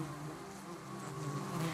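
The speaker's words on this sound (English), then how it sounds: "The whole colony takes part in the hissing, making the sound using a rhythmic body movement which travels like a wave through the colony." Honeybee colony hissing to warn off a lizard, a faint, steady buzzing hiss from the mass of bees that swells slightly and keeps going without a break.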